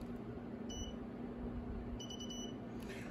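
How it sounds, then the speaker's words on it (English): Two faint, short electronic beeps from an EQStarPro unit powering on, the second a quick broken triple beep, over a steady low hum. "If I turn on the unit, it's gonna beep and then do a triple beep."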